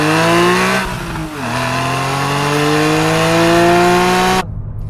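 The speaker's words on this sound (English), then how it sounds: "Plus the way it sounds when you have the sports exhaust on." Porsche 911 Carrera with sport exhaust, revving hard and close as the engine climbs through a gear, dips briefly at a shift, then pulls strongly again before cutting off abruptly to a low burble.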